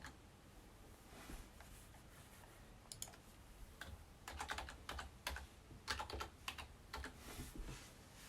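Quick bursts of typing on a computer keyboard, entering text into a text box for a personalised Easter egg holder design, with irregular clusters of clicks growing busier toward the end; close and fairly quiet, no talking.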